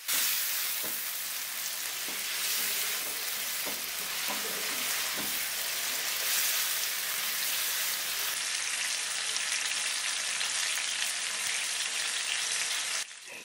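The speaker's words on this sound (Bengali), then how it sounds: "এখন ভেজে রাখা ডিম আর আলু দিয়ে দেব, সবকিছু মশলার সঙ্গে ভালো করে মিশিয়ে নেব।" Fried duck eggs and potatoes tossed into hot spice masala in a pan, with a steady loud sizzle and frying crackle running throughout, occasional stirring scrapes, and no talking.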